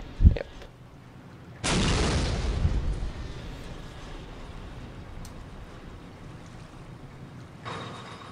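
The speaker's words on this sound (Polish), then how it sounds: "Wszystko wybuchło." A sharp thump followed by a sudden, heavy blast in a napalm factory in the video game Postal 2 that rumbles and fades into a long low roar, with another swell near the end.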